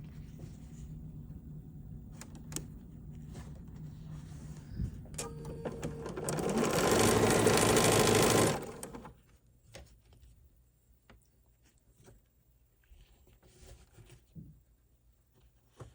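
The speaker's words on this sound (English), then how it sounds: "And now this gets stitched to the top here." A sewing machine stitching quilt pieces runs in one steady, humming burst of about two seconds, close and moderately loud, framed by quiet clicks and handling of fabric before and after.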